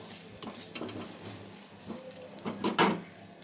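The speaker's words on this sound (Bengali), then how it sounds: "নারকেল কোড়া দিয়ে ভালোভাবে নেড়ে চেড়ে একটা পুর বানিয়ে নেব" Semolina and grated coconut filling stirred in a pan for pitha, soft scraping strokes with a faint sizzle, then a few louder knocks of the spoon against the pan near the end.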